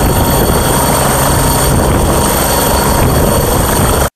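A helicopter flies with a loud, continuous rotor and engine drone that holds steady throughout, then cuts off abruptly at the very end.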